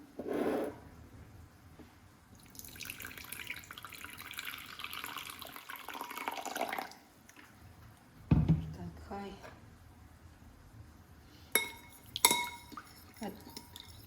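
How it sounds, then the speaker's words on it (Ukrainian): Water pours onto tomato paste in a pan while meatballs are cooked, a steady splashing rush lasting several seconds, followed by scattered clinks of utensils and dishes. "Заливаю водою."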